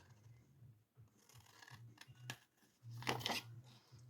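Scissors snip through paper while making an advent calendar box, a few quiet close cuts and rustles ending in a louder crisp slicing stroke, with no talk.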